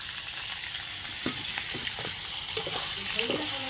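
Vegetables fry in oil in a home kitchen, a steady sizzle broken by soft scraping stirs and spatters, fairly quiet and close, with no voice over it.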